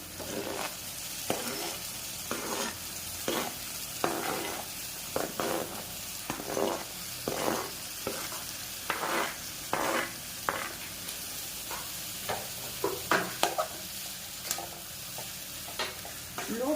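Small tomato pieces fry in oil with garlic for a tomato curry: a continuous soft sizzle broken by repeated scraping stirs of a spatula against the pan, irregularly spaced, with no talking.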